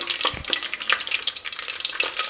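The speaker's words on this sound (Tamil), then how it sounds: "வெறும் சீரகம் பட்டை பூ வரையும் போட்டால் கூட போதும் தாளிப்புக்கு" Cumin seeds, cinnamon and flower spice tempering in hot oil in a home kitchen, a close, steady crackling sizzle with sharp pops and spits scattered throughout, no voices.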